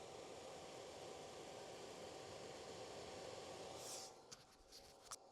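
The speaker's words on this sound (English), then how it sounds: "The little fan is currently on. And I'll let you listen to it." Small fan of a DC fridge runs with a soft, steady hiss-like whir, quiet and continuous, then fades to near silence as a few faint clicks and taps follow.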